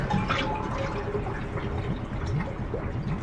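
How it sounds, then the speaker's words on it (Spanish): Dirty water draining from a bathtub after the plug is pulled in the Resident Evil remake, a continuous gurgling, sloshing flow close by. "Quito el tapón."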